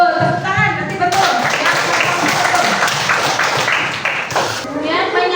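Grade 6 schoolchildren clap their hands together in a classroom, a dense burst of many hands lasting a few seconds, with young voices heard just before and after.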